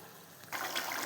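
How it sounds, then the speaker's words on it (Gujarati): Hot water is poured into a pan of Kathiyawadi cashew gathiya curry, starting abruptly after a short quiet lead-in as a loud, close, rushing splash. "થોડું ગરમ પાણી આમાં રેડશું અને એક ઉભરો આવવા દઈશું"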